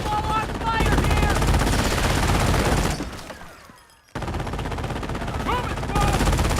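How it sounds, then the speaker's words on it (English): Small arms gunfire from the World War II strategy game Company of Heroes, dense continuous rattling volleys that briefly thin out mid-clip before resuming at full intensity, with shouted voices mixed in. "Taking small arms fire here!"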